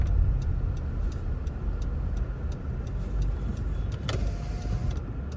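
A car drives through Montego Bay traffic, its cabin filled with a steady low road rumble. A faint regular ticking runs through it, and a brief whine comes about two-thirds of the way in.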